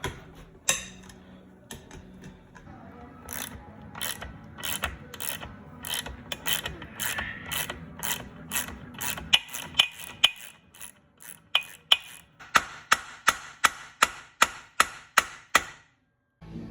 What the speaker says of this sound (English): see how hard these sprocket nuts are to get off